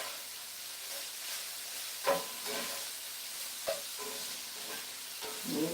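Chopped sausage pieces fry in a pan with a constant, close, hissing sizzle. A few sharp knocks and scrapes cut through now and then as the pieces are stirred and broken up.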